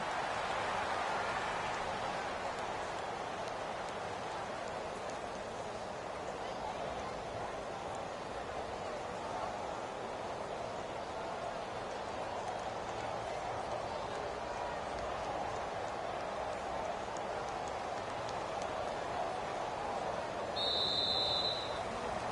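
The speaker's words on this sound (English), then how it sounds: "the forecast called for rain throughout the entire game, and we got rain throughout the entire game" Rain pours steadily throughout a football video game match, a continuous even wash of hiss with no clear breaks across the whole stretch.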